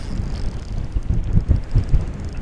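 Gusty wind at a fishing pond buffets the microphone in low, uneven rumbling bursts that swell and fade over a couple of seconds.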